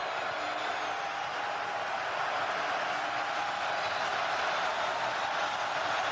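Steady broadband roar of a stadium crowd at a UFL football game between the Houston Roughnecks and St. Louis Battlehawks, building on a crucial fourth-and-two play, continuous and dense with no clear voices standing out.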